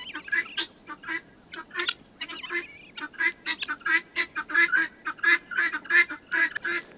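Guinea fowl on a homestead yard call in a rapid series of harsh, honking cries, several birds overlapping near and loud, building in pace toward the end.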